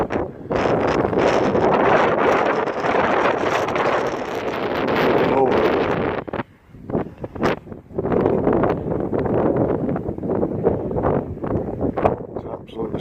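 Strong wind buffets a microphone outdoors on a windy day during a wood carving session, roaring loudly and steadily, then dropping into gusty bursts after a brief lull.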